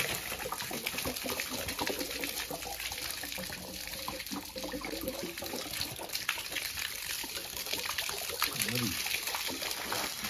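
Water splashes and trickles steadily as it is poured out of a rusty Royal Enfield motorcycle petrol tank after rinsing, a continuous close gush throughout.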